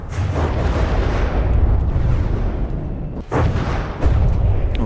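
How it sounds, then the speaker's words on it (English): Heavy, rumbling explosions from high-explosive missiles in the From the Depths naval combat game, a dense continuous barrage of booms with a few sharper bursts, loud and close throughout. "explosions detonating right inside critical components by the look of it now"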